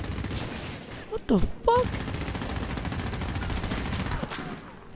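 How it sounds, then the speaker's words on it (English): Gunfire in the shooter game Medal of Honor Warfighter, a burst of cracking shots mixed with a steady roar of battle noise, while a voice exclaims briefly over it. "Who's shooting?"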